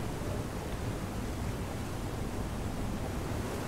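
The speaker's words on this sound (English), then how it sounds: "That's a waterfall." Waterfall in the video game FAR: Changing Tides, a constant dense roaring hiss of falling water, steady and unbroken.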